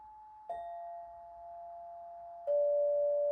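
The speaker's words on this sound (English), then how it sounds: "I have this beautiful chakra chime, which you can see here," A chakra chime struck twice, each strike ringing out as a clear, sustained metallic tone, the second stroke louder and lower, both sounding alone in a quiet room.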